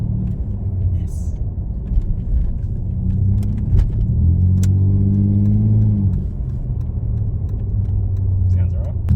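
Ford EF XR6 Falcon engine idling and revving after a warm start, a steady close rumble with one rising-and-falling rev in the middle, a voice talking briefly over it.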